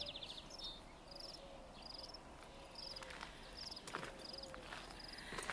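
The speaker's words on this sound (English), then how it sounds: "You can hear all the crickets and the birds." Crickets chirp in faint repeated trills along a lake trail near a golf course, with scattered soft footsteps and distant bird calls in a quiet outdoor setting.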